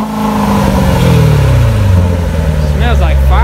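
A loud supercharged 2017 Corvette Z06 engine revs and winds down, with a high supercharger whine riding on top and voices talking over it.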